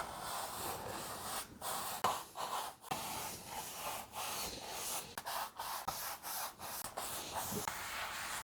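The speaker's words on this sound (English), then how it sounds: "Next we'll take the soft brush and gently brush the excess gold off." Soft brush strokes sweep excess gold leaf off a painting: quiet, close, repeated rubbing swishes in an uneven rhythm, with brief pauses between strokes.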